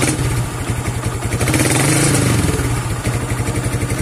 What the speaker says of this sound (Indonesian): Ini kita coba gas.